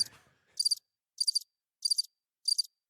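A cricket chirp sound effect repeats four times at a slow, even pace, each a short high trill over total silence, following a brief voice at the start.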